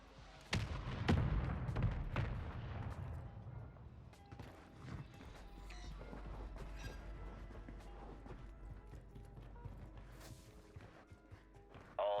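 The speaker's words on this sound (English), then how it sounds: "Mortar strike inbound now" Mortar strike explosions in Call of Duty Modern Warfare 3: a heavy blast near the start followed by a sustained low rumble and scattered further impacts, with battle clutter beneath.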